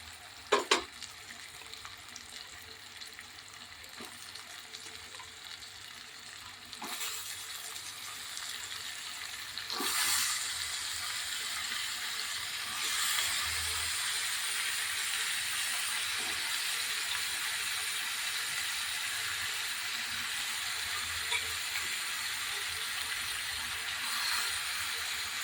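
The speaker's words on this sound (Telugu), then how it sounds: "ఇప్పుడు వంకాయ ముక్కలు వేసేసుకుందాం" Eggplant pieces for a spicy masala curry fry in a pan, a steady close hiss and sizzle that swells after being stirred, broken by occasional clinks and scrapes of a utensil, with no talking.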